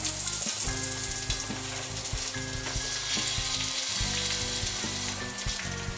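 An egg fries inside an egg ring for an Egg McMuffin, giving a steady, close sizzle and crackle that runs unbroken, with light metallic scrapes and taps over it and no talking.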